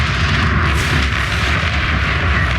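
Hostile weapon fire hits a salvager unit in the sci-fi desert strategy game Homeworld: Deserts of Kharak, heard as a steady, dense rumble of distant booms and blasts that continues without a break and without speech.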